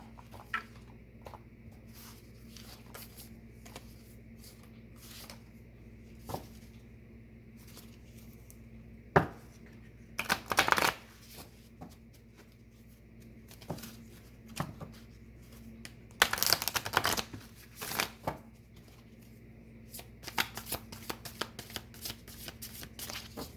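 Tarot cards are shuffled by hand in repeated soft riffling bursts, some louder and longer than others, with short quiet pauses between them and no speech.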